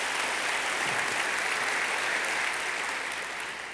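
Sustained audience applause at a city's State of the City address, dense and even clapping that fades slightly toward the end.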